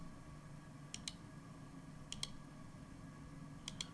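Three pairs of quick, crisp computer mouse clicks while selecting from a drop-down menu, spaced about a second apart over a faint steady background hum.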